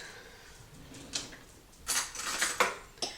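A fork scrapes and clinks against a bowl while mixing seasoned shredded potatoes for a hashbrown crust, a few short metallic taps and scrapes over a quiet background.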